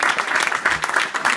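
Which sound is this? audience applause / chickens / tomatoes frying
audience applause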